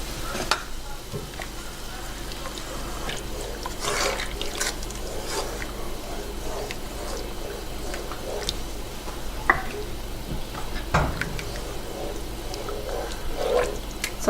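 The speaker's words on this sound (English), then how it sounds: "after pouring in 1 cup of heavy cream and 1 cup of wine" Heavy cream and wine are poured into a pot for a steamed mussels sauce, a steady liquid pour and splashing with light clinks throughout, close and continuous.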